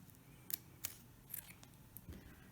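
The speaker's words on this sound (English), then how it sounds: "Then you can trim the zipper to your other mark." Scissors snip through a zipper being trimmed to length for a rolling zip-around bag, a few sharp close cuts spaced apart over a quiet background.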